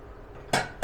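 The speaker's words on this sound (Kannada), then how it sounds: "ಕುಕ್ಕರ್ ಓಪನ್ ಮಾಡ್ತಾಯಿದ್ದೀನಿ." A pressure cooker of mutton curry is opened with two sharp metallic clanks of lid against pot, close and loud, after a quiet moment.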